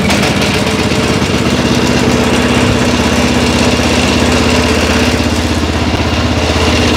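A petrol walk-behind tractor engine runs at idle close by, a loud, steady mechanical chug with rapid rhythmic pulsing and vibration that continues without pause.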